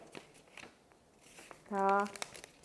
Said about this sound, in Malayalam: ഇങ്ങനെ ഉള്ളിലേക്ക് മടക്കുക.